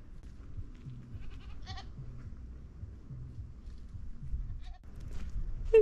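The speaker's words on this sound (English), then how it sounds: "So many goats." Goats bleating on hillsides, several short wavering bleats at a distance over a steady low rumble of wind or engine noise.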